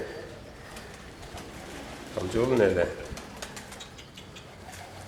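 A tumbler pigeon, a flying play bird, gives one brief, low coo midway through, partly under a voice, against a steady outdoor background hiss.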